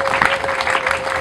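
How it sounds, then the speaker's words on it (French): Steady, dense audience applause honouring a deceased man, a continuous wash of many hands clapping, close and loud throughout with no pauses and a faint steady tone running beneath. "Je peux demander que nous puissions l'applaudir très frénétiquement pour tout ce qu'il a été."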